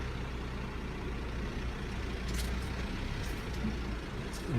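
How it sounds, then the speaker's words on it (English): A truck idles close by on a street while exiting a rental in Avignon, a steady low rumbling drone with faint hissy bursts, with no talking. "There's a truck in my way."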